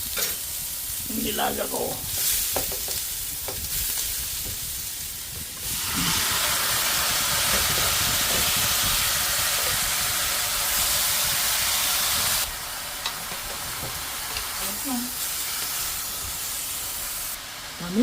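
Pork pieces frying in hot oil with onion and garlic for adobo, a loud steady sizzle and hiss that swells after the meat goes in, with occasional stirring scrapes and a brief spoken remark.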